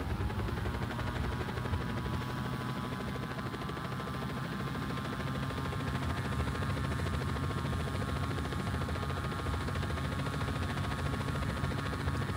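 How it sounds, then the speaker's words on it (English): A helicopter in the video game Just Cause 4 gives a loud, steady rotor and engine drone that holds evenly for the whole stretch, with no voices over it. "Let's take this chopper of ours."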